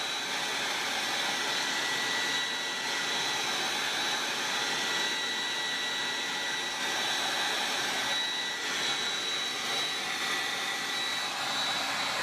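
A handheld hair dryer drying chalk paste on a farmhouse wall decor transfer blows a steady, loud whooshing hiss, constant and close from start to finish.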